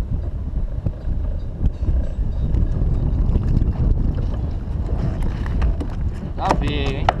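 Outboard motorboat passing close to a fishing kayak on the water near Bertioga, heard as a steady low churning rumble mixed with wind and splashing, with a brief voice near the end.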